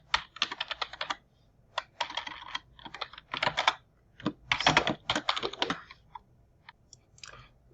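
Bursts of typing on a computer keyboard with rapid, irregular key clicks in clusters and brief pauses between them, fairly close and with no voice.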